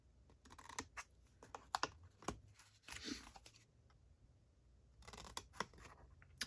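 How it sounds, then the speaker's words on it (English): Scissors cutting paper for a Christmas craft, a quiet, close series of irregular snips and rustles with short pauses between them. "then we'll cut the triangle here"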